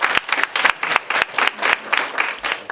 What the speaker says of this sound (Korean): 야 박수 한번 보내주라.